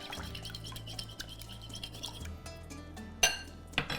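Ceviche ingredients with Dijon mustard being stirred in a bowl: quiet scraping and small clinks of a utensil against the dish, a low hum underneath and a couple of sharper taps near the end.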